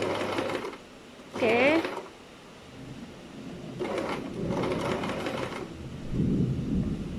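A sewing machine runs in short bursts while stitching a knife pleat with a reverse stitch, its fast whirring motor close and clear, separated by pauses in which a voice speaks briefly.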